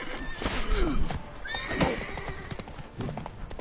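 Hoofbeats of Roach, a horse in The Witcher 3, clip-clop at a fast galloping rhythm close by, with a whinny partway through and some game sound around it.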